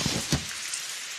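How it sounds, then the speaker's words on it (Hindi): Steady rain pours in a cartoon scene, a dense even hiss with a couple of brief splashy thumps near the start. "बारिश हो रही है।"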